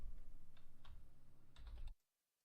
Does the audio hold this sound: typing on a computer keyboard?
yes